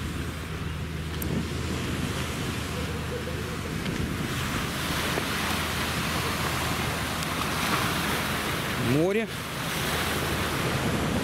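Sea waves wash ashore beside the ruins of the ancient Greek city of Chersonesus in Crimea, a constant rushing surf blended with heavy wind buffeting on the microphone and a brief sharp chirp near the end.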